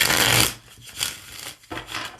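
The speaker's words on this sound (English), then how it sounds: "I'm going to shuffle the tarot 5 times" Tarot cards are shuffled close by in quick, papery riffling bursts, a long rush at first followed by several shorter rubbing passes.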